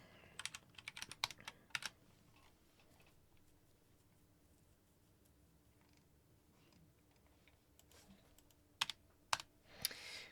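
Typing on a computer keyboard, quiet clusters of clicks near the start and end with a long near-silent stretch of soft room hiss between.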